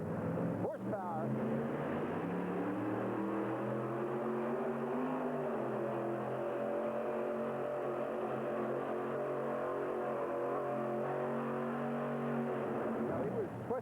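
A supercharged 498-cubic-inch Hemi tractor-pulling engine roars at a pull in the USA, a sustained heavy drone with rising and falling pitch as it strains down the track, heard under a commentator's continuous talk.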